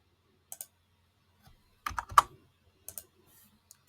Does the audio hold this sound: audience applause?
no